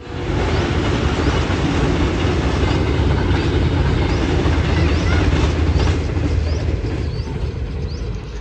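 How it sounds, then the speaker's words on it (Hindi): A train rumbles past near a village kitchen in a loud, steady wash of rail noise with faint clickety-clack wheel rhythm, close and continuous throughout. "रेलगाड़ी आ गई है।"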